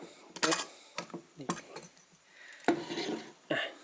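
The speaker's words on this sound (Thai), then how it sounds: "เดี๋ยวใส่ฟิล์มให้ดูนะครับก็ ยกอันนี้ขึ้นดึงนะครับ" A Pentax Spotmatic SP film camera is opened for loading, giving a series of sharp metallic clicks, snaps and small rattles close up, spaced irregularly with quiet gaps between them.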